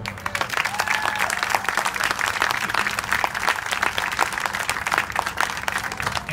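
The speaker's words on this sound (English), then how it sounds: "I'd like if everyone would give him one more round of applause." An audience applauds steadily at an outdoor dedication ceremony honoring a retired county commissioner, dense clapping holding fairly loud and even throughout with no voices over it.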